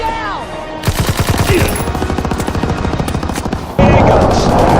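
Rapid, loud automatic gunfire in Call of Duty WW2 multiplayer, a sustained burst of rattling shots with a heavier blast near the end, no talking.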